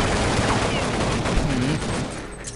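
Loud, constant gunfire in the video game Counter-Strike Online, a thick wall of overlapping shots with no breaks that eases slightly toward the end.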